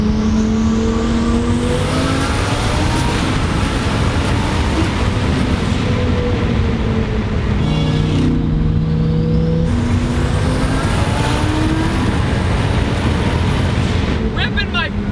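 A 1350-horsepower Lamborghini Performante launches hard from a brake boost, its engine roaring loud and continuous with rising, shifting tones and a brief gear-change dip, a voice faintly under the din.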